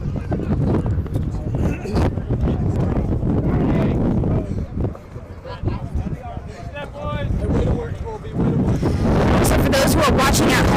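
Strong wind buffeting the microphone outdoors at a Montana State versus Denver open cup match, a loud continuous rumbling roar under commentators talking and distant crowd noise.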